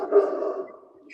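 A small Chihuahua barks indoors in a home shared with Rottweilers, a brief yappy outburst that fades out, heard faintly with no talking over it.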